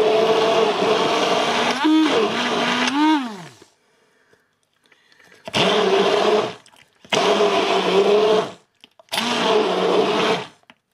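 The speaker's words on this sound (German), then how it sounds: "Ich püriere jetzt unsere Früchte" Baked apples being puréed for jam in a blender, loud and close: a long whirring run with pitch swoops as the load shifts, a pause, then three shorter bursts.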